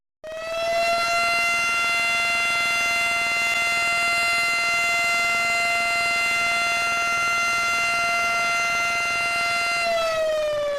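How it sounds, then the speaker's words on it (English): An emergency siren at an Agrium plant sounds a single loud, sustained wail that holds steady for about ten seconds and then starts to wind down, with no other sounds. "Notification of an incident or emergency is addressed by sounding the siren."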